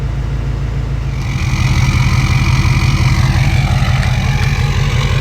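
A 2017 or later Ford 6.7 diesel engine catches after cranking and settles into a loud, steady low rumbling idle close by, following a fuel filter change, with no talking.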